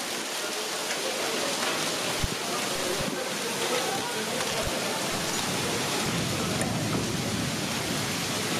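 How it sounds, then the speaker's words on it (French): Wind-driven rain and the first hailstones batter down in a violent thunderstorm, a dense continuous roar with scattered sharp impacts and a low rumble underneath, loud and close. "Les premiers grêlons commencent à tomber, mais on voit que le caractère principal de cet orage est le vent."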